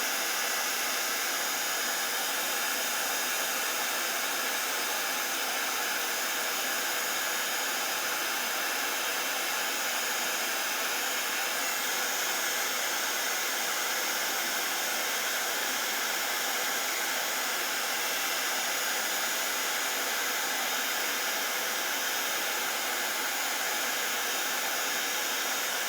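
A heat tool blows hot air over a Santa cardmaking project until the card surface puffs up: a steady, even whooshing hiss that holds unchanged for almost half a minute, with no talking.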